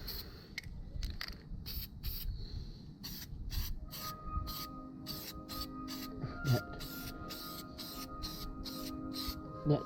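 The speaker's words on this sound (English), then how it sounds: "We're going to spray that on." Spray putty hisses from an aerosol can onto scratched car body panels during a DIY repair, in repeated short bursts with pauses, fairly close, while steady tones from a distant public chime play underneath.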